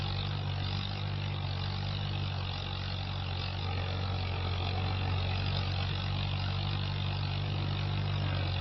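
A tractor engine runs steadily while drilling winter barley in a cultivated field, a constant low droning hum with no breaks, fairly loud and close throughout.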